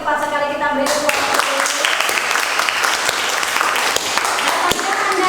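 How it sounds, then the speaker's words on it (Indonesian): A class applauds a student's correct answer during a physics lesson, with dense, loud, close clapping from a group that starts abruptly after a short musical chime and keeps going to the end. "kita beri tepuk tangan"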